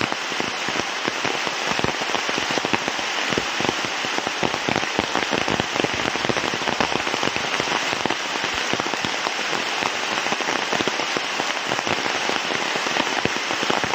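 Heavy rain drums on an umbrella outdoors in Manaus, Brazil, a dense, loud, continuous patter with no letup and no voices.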